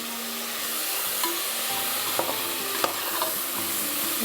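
Tomatoes and chickpeas sizzle steadily in a hot pan for kondaikadalai biryani, with a few scraping clicks of a spoon stirring through the constant frying hiss.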